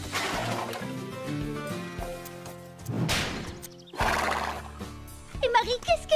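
In a cartoon horse-riding scene at a western riding event, a horse whinnies loudly in long drawn neighs against background music and effects, ending in a short snorting whicker.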